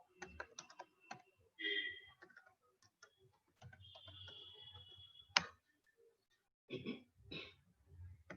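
Quiet, close typing on a computer keyboard, scattered bursts of key clicks with pauses between them and a faint hum, no speech.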